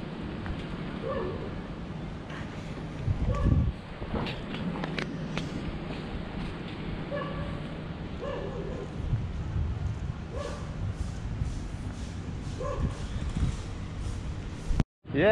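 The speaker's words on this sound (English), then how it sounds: "Very big dog." A very large dog barks in a few short bursts on a busy night street in Mumbai, loud over constant traffic and crowd noise, with people talking nearby.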